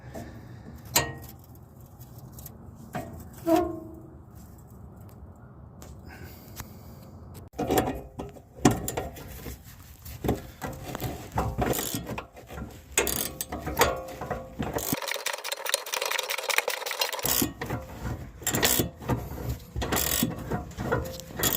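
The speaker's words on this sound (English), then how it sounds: "just get them loose enough to pull the tank strap upwards to unhook the J-bolt from its notch in the frame" A wrench or ratchet works loose the fuel tank strap nuts under a Jeep Cherokee, giving scattered close metallic clicks, ratcheting and clanks, with a busier burst of mechanical rattling in the second half.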